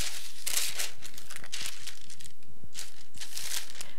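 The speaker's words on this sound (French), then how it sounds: "Et ensuite, on recouvre avec une feuille de papier sulfurisé." A sheet of parchment paper is laid over a plate while decorating a Christmas yule log cake, crinkling and rustling in several close, loud bursts with brief pauses between them.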